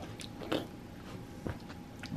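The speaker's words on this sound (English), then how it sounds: "Sorry for the chewing." Close-up chewing with a few crisp bites and crunches spaced apart, quiet, with no talking.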